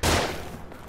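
Rapid gunfire bursts from The Evil Within on PS4, a loud, dense volley of shots crackling close up and then decaying, with no voices.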